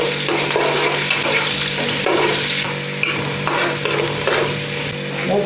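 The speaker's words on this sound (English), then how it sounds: "Let's leave it to fry." Onions frying in groundnut oil in a pot give a loud, steady sizzle with occasional stirring scrapes, continuous throughout with no talking.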